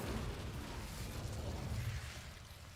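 Incendio fire spell effect from a Hogwarts video game: a sustained, close, rumbling whoosh and crackle of magical flame that stays loud throughout and then tapers slightly at the end.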